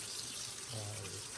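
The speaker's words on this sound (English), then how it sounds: "I'll get that water going in here." Tap water running steadily into a kitchen sink while cooking spaghetti sauce with pork, a continuous broadband rush with a low hum entering partway through.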